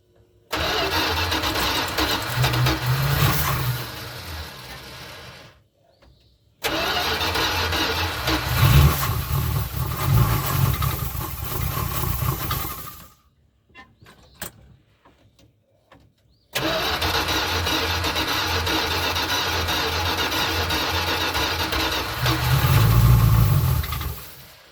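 A 1981 Dodge B250 Ram Van cranks and catches, its engine running rough and starved of fuel from a worn carburetor, sounding in three loud bursts separated by brief silences, with a deeper surge near the end of each.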